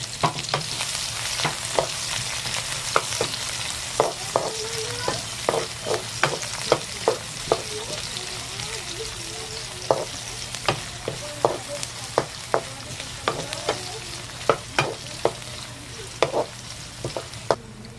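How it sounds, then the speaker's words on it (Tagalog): Garlic and onion sauté in a pan for pork adobo, giving a steady close sizzle with frequent utensil scrapes and clicks that come in a busy, uneven rhythm throughout. "First, pagsabay natin ilagay yung ating garlic at saka yung ating onion."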